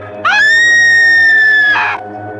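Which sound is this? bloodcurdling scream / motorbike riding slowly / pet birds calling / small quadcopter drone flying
bloodcurdling scream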